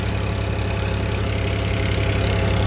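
A New Holland 3230 TX 45-horsepower diesel tractor idles steadily nearby, a loud, continuous low rumble with a fast regular knock and no voices over it.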